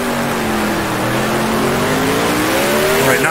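A 1966 Formula One car in Grand Prix Legends, racing the French Grand Prix, drops through its gears: a loud, close engine drone whose pitch sweeps and shifts as it downshifts, with a faint tire squeal at the end.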